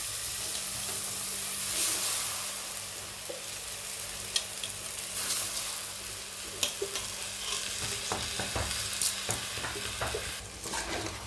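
Rice frying lightly in a little oil in a pan for mushroom biryani, with a soft continuous sizzle under repeated scraping and stirring clatter from a spoon, moderately close and quiet, with no talk.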